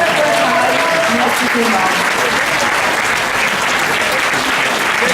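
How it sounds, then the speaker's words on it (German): Audience applause at the Prix Walo final in Birr, a dense sustained clapping filling the room throughout, with someone speaking briefly over it. "Und noch einen riesen Applaus allen, die hier mitgemacht haben."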